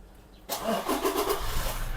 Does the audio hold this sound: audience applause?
no